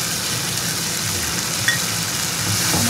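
Spice tempering frying in hot oil for a koi fish curry, a dense and fairly loud hiss of sizzling that runs steadily through the short moment with no voices.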